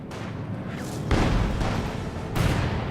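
S-mines detonate in the WWII strategy game Company of Heroes 2, with several heavy booming blasts in quick succession over a continuous rumbling battlefield din.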